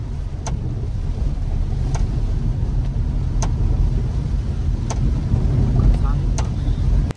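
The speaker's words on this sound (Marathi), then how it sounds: "परत चालू आहे, एकदम दणदणीत पाऊस आहे." Heavy rain pouring steadily as a dense, close roar of water, loud and unbroken throughout, with a few faint sharp ticks over it and no talking.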